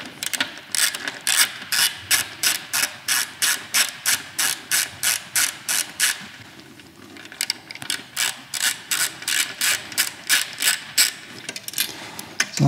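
A hand ratchet is turned to loosen screws, giving rapid, evenly spaced clicks up close. The clicking comes in two long bursts with a short pause between them, and no one speaks.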